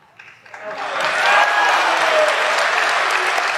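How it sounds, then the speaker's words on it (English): A crowd at a Ben Shapiro speech breaks into sustained applause that swells quickly and holds steady, loud and dense, with scattered voices mixed in. "What are they clapping for?"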